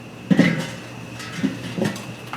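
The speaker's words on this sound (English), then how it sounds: "now we're going to put the lid on here" A metal lid set onto a Pit Boss Vortex grill, one clanking contact followed by two softer knocks as it settles, close by and without talk.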